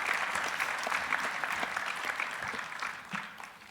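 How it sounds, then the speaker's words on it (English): Audience clapping after a conference talk on critical illness insurance, a dense, even burst of applause that holds steady and then thins out toward the end. "Now you can clap."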